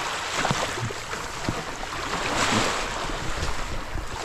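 Sea waves at Amolat Beach at high tide, a continuous surging wash with swelling breaks and wind noise, fairly loud and close, no voices.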